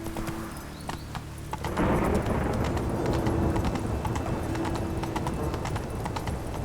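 Hooves clip-clop in a steady, moderately close rhythm as a horse moves in the video game Witcher 3, with a brief whinny and a faint voice in the background.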